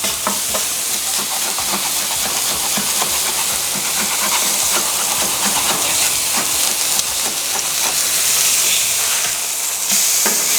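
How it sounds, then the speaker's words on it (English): A chili burger on a hot flat griddle gives a loud, steady sizzle and hiss close by. Under it, a metal spatula scrapes the crust off the surface with repeated gritty rasps, and nobody talks. "So we want to get a good scrape on it, just like that."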